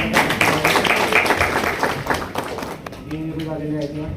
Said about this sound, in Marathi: त्यांच्यासाठी सुद्धा जरा डबल टाळ्या वाजवल्या